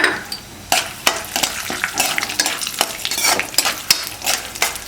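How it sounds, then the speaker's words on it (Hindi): Chironji seeds lightly roasting in a pan, with repeated scraping and stirring strokes and soft dry sizzling in an uneven rhythm, close up with no talking. "तो चिरौंजी को भी हल्का सा भून लेंगे हम।"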